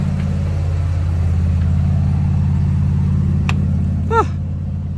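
A riding mower engine on a farm runs at a steady, low idle, its mid-pitched rumble constant throughout with a brief chirp near the end.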